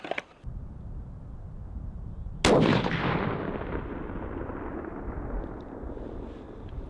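A Howa 1500 rifle in .308 fires one loud, sharp shot at an outdoor range. A long, fading rumble follows, with a fainter crack near the start.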